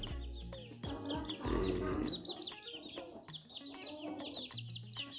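Several chickens cluck and chatter nearby in repeated short calls, with a rooster's deeper voice among them and some background rustling.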